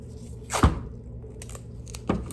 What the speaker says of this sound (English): now we're going to use our indicator tape to close the pack.